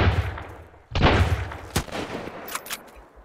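Rifle gunfire in the survival game Sunkenland, a loud sharp blast followed by another crisp shot and a few fainter cracking reports, with the echoes decaying between them.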